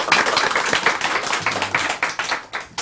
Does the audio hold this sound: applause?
yes